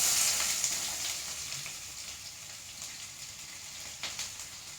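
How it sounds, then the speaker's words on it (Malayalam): Chopped onions frying in an oil-filled pan with spices for a curry leaves chicken dish, a steady close hiss and crackle with faint stirring, heard alone without talk. "സവാള ഇട്ട് കൊടുത്തു. ഇനി നമുക്കതാണ്ട് വഴറ്റി കൊടുക്കാം."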